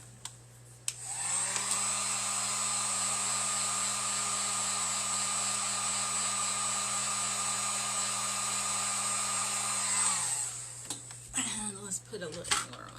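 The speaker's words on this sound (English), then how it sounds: "So let's get the dryer out here." A hair dryer runs steadily for about nine seconds, heating decoration on a round metal tray, with a loud continuous whine and hum that clicks on and off, then faint handling noises after it stops.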